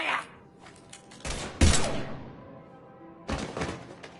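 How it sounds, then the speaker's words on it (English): Gunfire from the video game Mass Effect 3: a few sharp, loud bursts of shots with thuds between them, separated by quieter stretches and close in the mix. "Now open fire!"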